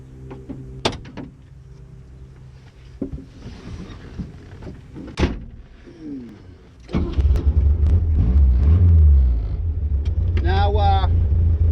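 A 1974 Saab Sonett is set off on a road test: a door clunks and other cabin clatter follows, then the engine rises to a loud, steady drone, and people talk throughout.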